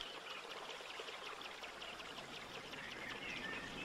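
Faint trickling stream water runs quietly and continuously on a heathery hillside, a soft, even babble with no voices.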